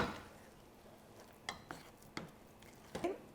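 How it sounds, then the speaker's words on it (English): A spoon stirs chocolate semolina halva off the heat, giving a few soft scrapes and light taps against the pot at irregular intervals over a quiet background. "we're just going to stir it until the chocolate completely melts"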